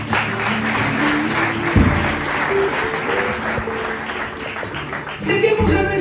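Church congregation applauding during a Portuguese-Spanish sermon, a dense sustained patter of clapping across the room with music or tones beneath and a louder swell near the end.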